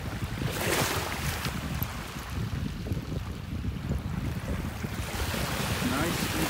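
Ocean surf washes steadily onto a beach in North Naples, Florida, a constant broad roar mixed with wind buffeting the microphone, with no clear speech.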